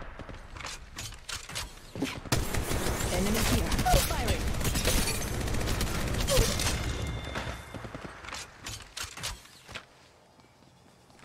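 Gunfire in Apex Legends Mobile bursts in scattered volleys: a dense stretch of rapid shots in the middle, then sparser single cracks toward the end, with mechanical clanks and thumps among them.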